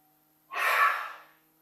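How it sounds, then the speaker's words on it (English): One breathy exhale pushed from the back of the throat, like fogging a mirror in yogic breathing, rising quickly and fading over about a second, close and soft, in quiet surroundings. "That's the fogging of the mirror. And the sound is created in the back of the throat."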